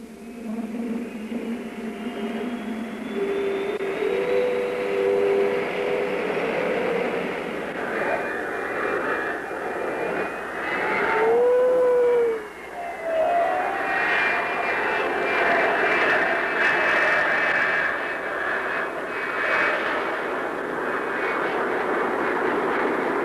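A Lockheed F-104C Starfighter jet takes off with a loud, steady roar and rising whine that sweeps past, sustained for over twenty seconds with faint talk beneath.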